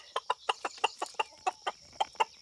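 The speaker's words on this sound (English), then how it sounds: "Chickens are having a hard time waking up" A hen clucks in the early morning in a quick, regular series of short notes, close and clear, with a faint background hum.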